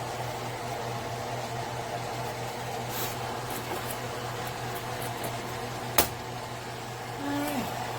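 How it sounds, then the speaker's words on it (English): Cooling fan running under the burners of a 60cm built-in four-zone Karinear ceramic electric hob, a steady, low, even hum with a faint airy hiss, broken by a single sharp click. "each burner has a sufficient fan under it to keep it cool"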